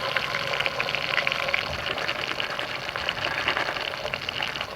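Onions sizzle in hot oil for a sardine fish curry cooked outdoors in the Kolli Hills, a continuous bright crackling fry heard close and even throughout.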